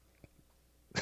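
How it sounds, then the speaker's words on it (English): A short, abrupt burp bursts out at the very end, loud and close, after a quiet stretch with a couple of faint throat sounds, as someone tries to hold back a cough. "I was trying not to cough and I burped."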